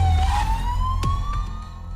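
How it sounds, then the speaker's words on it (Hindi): An ambulance siren wails steadily, its rising tone sweeping upward and holding loud and close over two seconds, with a low vehicle rumble underneath and no talking. "देखो एम्बुलेंस आई है।"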